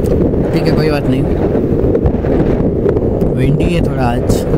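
Loud, constant wind roar buffeting the rider on a Suzuki Access 125 BS6 scooter crossing a bridge, with someone talking over the rush throughout.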